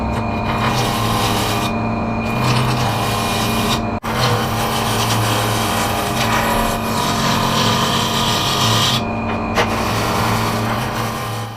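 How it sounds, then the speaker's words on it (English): A wooden Indian club blank being rough turned on a lathe with a 40mm gouge: a loud, continuous motor drone with steady scraping and cutting hiss, broken by two brief dips. "As the work gets more rounded, I still carry on trimming and rounding off with the 40mm gouge."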